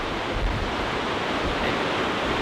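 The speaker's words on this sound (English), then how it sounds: "It's so windy." Strong wind at Elan Valley in Wales, a loud, steady roar of gusts buffeting the microphone into broad rushing noise, with no voices.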